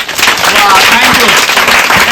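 Students in a Class 10 maths lesson clap loudly together, a dense close burst of hand claps filling the room with some voices underneath.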